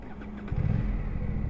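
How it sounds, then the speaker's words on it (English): Aprilia Tuono 457 motorcycle engine revving up once from a low idle rumble, a close, steady mechanical drone that swells and then holds near the machine. "Sweet sounding motorcycle"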